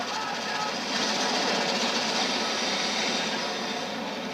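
A train in the video game Modern Warfare 3 gives a steady, dense rumble and roar, with a rattling, grinding texture that holds even throughout.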